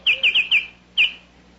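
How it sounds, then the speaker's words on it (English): A bird's call sounding as a quick run of four bright chirps, a pause, then one more chirp, clear and fairly close against a quiet background. "That was the Baltimore Oriole"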